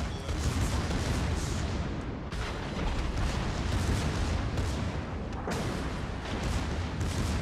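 Heavy naval guns boom in World of Warships, with dense, rumbling salvos and battle noise rolling continuously for the whole clip, including the Tirpitz battleship in ranked play.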